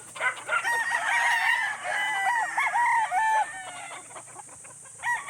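Gamefowl roosters released to spar, crowing and clucking loudly and close by in repeated overlapping calls over several seconds, with brief pauses between bursts.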